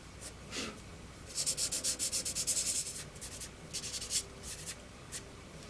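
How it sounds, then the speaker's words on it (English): Folded sandpaper scrubs a white plastic part of a Moebius Models 2001 EVA Pod kit in a quick burst of rapid back-and-forth rasping strokes, then a few shorter, lighter passes, close up and with nobody talking. "That's going to be better to get with sandpaper. I'll have to fold it."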